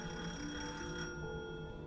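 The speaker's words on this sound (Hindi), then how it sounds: "तभी अचानक से फोन बजा।" A telephone rings with a steady electronic trill in an empty studio, fairly faint, then cuts off partway through.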